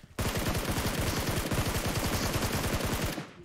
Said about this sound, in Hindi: ए प्यू प्यू करके कोई तो मार रहा है ये